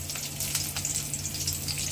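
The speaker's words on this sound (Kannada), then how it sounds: "ಚಟಪಟ ಅನ್ಸೋಣ ಕರಿಬೇವನ್ನ" Curry leaves crackle and sizzle in hot oil in a pan, a steady close frying hiss with scattered sharp pops.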